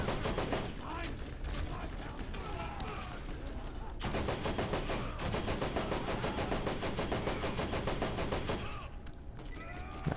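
Rapid automatic gunfire in the Borderlands video game during a safe house fight, with dense, continuous volleys of loud shots and game effects filling the whole clip.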